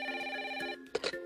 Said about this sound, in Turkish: birden telefon geldi.